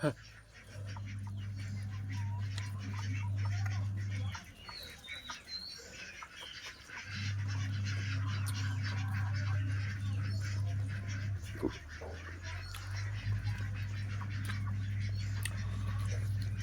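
Ducks quack in a loose, irregular series, close and fairly clear, set against a steady low hum with a brief quieter stretch midway.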